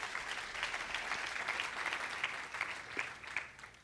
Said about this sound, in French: Et on peut peut-être applaudir ce que Dieu fait.